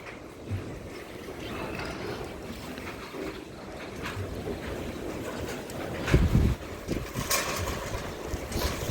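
Strong wind gusting outdoors, a steady rushing roar with heavy buffeting against the microphone and louder bursts toward the end, no voices.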